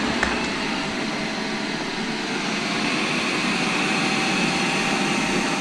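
A Eufy X8 robot vacuum runs with a steady, continuous whirring hum of motor and suction, close and unbroken throughout, with no talk over it.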